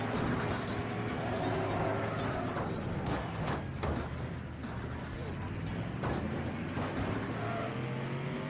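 Racing car engines from the demolition-derby video game Wreckfest drone steadily throughout, with revving swells and crash-like thumps mixed in, as someone talks over the game audio.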